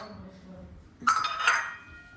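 A plate clinks against other dishes in a short, bright rattle after a moment of quiet room noise.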